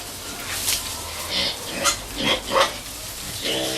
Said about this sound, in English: So you can see how pigs love the grass.